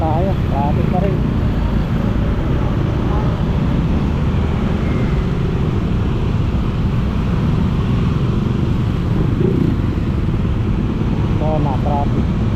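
Heavy road traffic with buses and cars stuck along a road near an overpass, a constant loud engine rumble and hum from nearby, with occasional speech over it.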